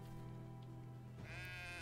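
Sheep bleat in the farming game Medieval Dynasty, a loud, drawn-out bleat followed by a second higher, wavering call, close and clear over a steady ambient game background with no talk.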